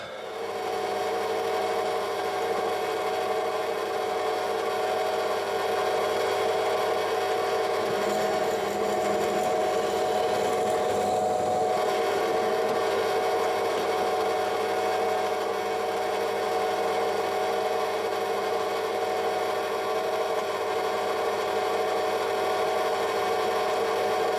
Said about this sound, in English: Right, that's the 5mm holes drilled.